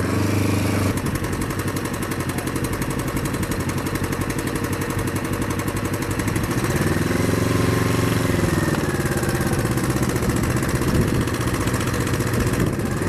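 A new motorcycle's engine runs steadily and fairly close, with a rhythmic idle and a smooth rev that rises and falls in the middle.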